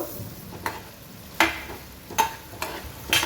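Sesame seeds roast in a pan for pineapple gojju, with a few sharp, separate pops and splutters spaced out over a quiet background hiss.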